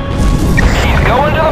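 Warship guns fire in the Battlestations: Pacific naval battle at Cape Engano, a loud, deep, rumbling boom that fills the short moment and rolls on without fading.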